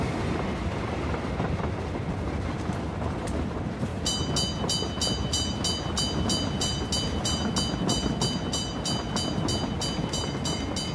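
A train passes in the PUBG battle royale video game, a steady loud rumble of rolling rail cars with a rhythmic metallic clatter joining in midway, heard alone without talk.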